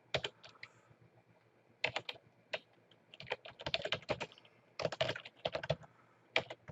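Bursts of computer keyboard typing, a quick run of key clicks in separate clusters with short pauses between them, close and fairly quiet, no voices.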